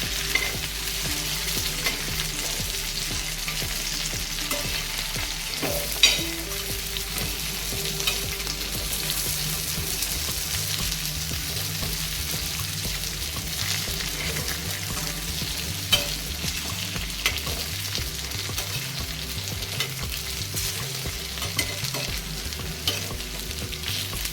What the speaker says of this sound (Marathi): आता झाकण न ठेवता आपल्याला असेच फ्राय करून घ्यायचे